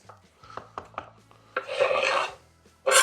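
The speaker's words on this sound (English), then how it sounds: "We're just gonna chop them up." A knife chops capers on a cutting board, giving a series of separate close taps followed by a longer burst of rasping, scraping strokes. There is no talking.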